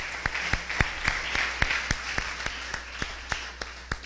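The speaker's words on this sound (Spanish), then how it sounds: "les enviamos un aplauso de amor y bienvenida en el amor del Señor" Applause at a church service welcoming viewers, fairly faint, with sharp claps at a steady beat over a softer wash of clapping.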